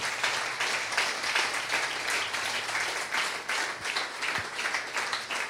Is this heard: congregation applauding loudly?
yes